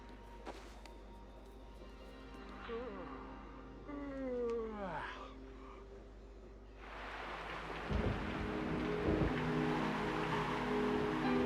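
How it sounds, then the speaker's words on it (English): Rain falls steadily in the Sinking Island video game, a constant hiss that swells into a heavier downpour midway, with rumbling thunder and scattered other game sounds earlier on. "it is still raining"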